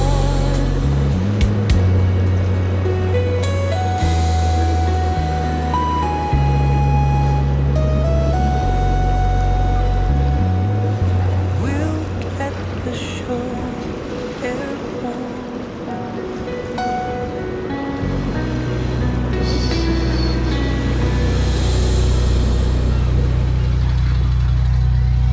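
A ferry arrives at the Seacombe Ferry terminal on a calm day, its low engine drone rising and shifting steadily against a faint wash of water, with no one talking.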